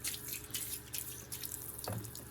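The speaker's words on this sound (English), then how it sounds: "Okay, now I'm gonna rinse my hand." A hand is rinsed under a running faucet, with a soft, quiet stream of tap water splashing unevenly and a brief louder gush near the end.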